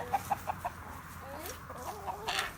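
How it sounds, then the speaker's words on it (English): Several chickens cluck in short, evenly spaced bursts near at hand, then give softer warbling calls and a louder flurry of clucks at the close, with no talk over them. "Look at all these chickies."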